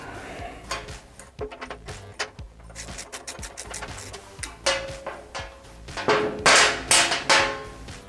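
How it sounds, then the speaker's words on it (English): Metal clinks and ratcheting clicks from tightening a nut on a fender eliminator bracket of a 2009-2014 Yamaha YZF R1, with irregular close taps and rattles, busiest and loudest in the last couple of seconds. "We'll tighten it up just a little bit."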